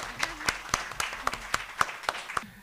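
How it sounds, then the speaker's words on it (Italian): An audience at a children's book presentation at a literary festival in Umbria applauds with a sparse, evenly spaced run of about ten sharp, distinct claps that sounds like only a few people, close and fairly clear. "quindi applauso anche alla sorella Sara."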